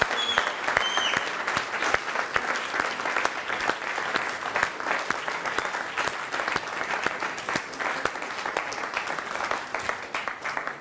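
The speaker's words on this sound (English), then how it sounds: "a big round of applause to each and every one of the tutors and each and every one of you" A graduation ceremony audience applauds continuously, a dense, steady wash of many hands clapping that fills the hall without pause.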